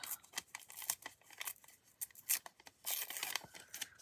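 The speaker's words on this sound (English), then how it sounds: "Can I tear it and not tear the staple out?" A paper receipt from a charity shop is torn near its staple in a series of short, crisp ripping and crinkling bursts, close and quiet, with brief pauses between tugs and no talking.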